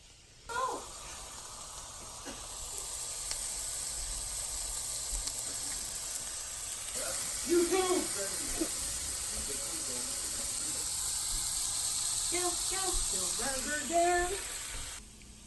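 A doughnut burger patty sizzles in a hot pan, a steady broadband hiss running throughout with brief crackles and pops, while voices talk and hum over it in places.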